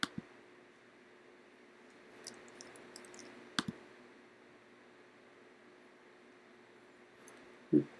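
Computer mouse buttons clicking a few times, small sharp clicks spaced apart over a faint steady hum, with no talking.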